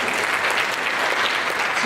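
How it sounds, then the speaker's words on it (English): Steady, dense applause from an audience at a local dance showcase fundraiser, filling the room evenly and continuously as a Zumba instructor is introduced, with no voices standing out. "Give her a round of applause."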